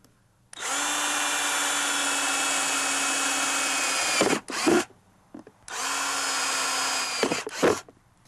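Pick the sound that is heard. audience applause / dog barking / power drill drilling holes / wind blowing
power drill drilling holes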